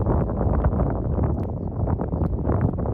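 Steady outdoor wind gusting against the microphone, a dense continuous low rumble with no break across the stretch, loud and close.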